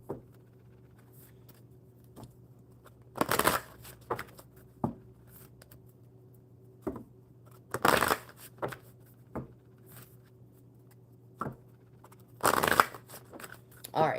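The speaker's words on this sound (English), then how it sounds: "All right, one more good shuffle." A deck of cards being shuffled in short crisp bursts, several riffles spaced a few seconds apart, close and fairly quiet with a low hum between them.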